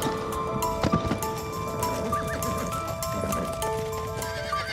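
A horse clip-clops and whinnies, hoofbeats thudding in quick bursts while a shrill neigh rises over them, fairly close and loud, with no talk.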